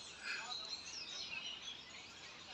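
Small birds chirp from a little tree in the Tuscan town of Greve in Chianti, a faint, steady chatter of calls spread across the whole stretch, heard at a distance.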